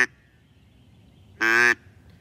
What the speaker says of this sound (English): So the normal quack is just, you just blow into it from your diaphragm.